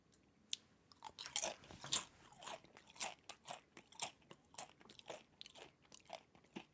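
Lime-flavored tortilla chips crunch loudly and close up, a rapid run of sharp bites at first that settles into steady, evenly spaced chewing crunches, with no talking.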